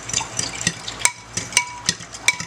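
A spoon stirs a sauce with black pepper in a bowl, making quick, close, wet scraping and clinking strokes in a steady rhythm, loud with no talk.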